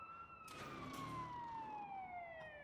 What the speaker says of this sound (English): Man's got his siren blaring because he knows that the zombies are attracted to that.